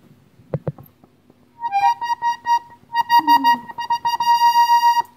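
An accordion with a key newly reattached to its pallet using wax sounds a few clicks, then sustained reedy tones that start and stop in short bursts, moderately loud and with no talking.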